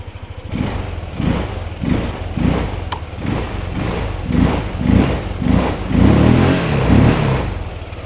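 Modified Yamaha Aerox maxi scooter with a changed air intake, idling on its centre stand, then revved in a series of about a dozen rhythmic throttle blips. The engine is close and loud, and the later revs are heavier.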